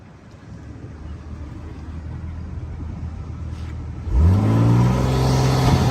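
BMW M340i launching hard from a standstill, the engine idling and rumbling steadily before surging into a loud, rising rev with heavy turbo intake roar near the end.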